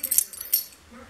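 Car keys jangle in a few quick bright metallic bursts over about a second, close and moderately loud, with faint room noise behind.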